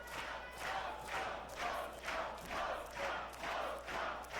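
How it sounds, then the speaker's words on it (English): A large wrestling crowd at a Westside Xtreme Wrestling show in Germany chants in rhythmic, pulsing surges about every half second, loud and unified, echoing through the arena with no clear talking. "Listen to that crowd"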